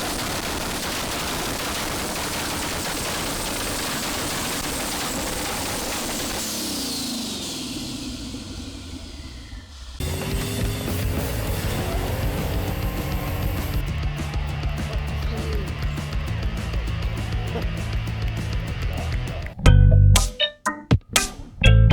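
A race car's engine roars steadily at high revs for a long stretch, then shifts tone. It ends with a burst of loud, sharp crackling pops like firecrackers going off.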